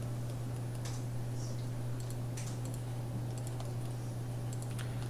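Computer keyboard typing CAD commands for an injection mold 2D drawing, a scattered run of light key clicks over a steady low electrical hum, no voices.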